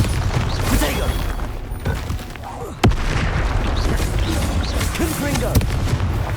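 Bombarda blast spell explosions in Hogwarts Legacy, several sharp booms scattered over a busy combat din, the strongest hit near the middle, loud and close, with game voices speaking in between.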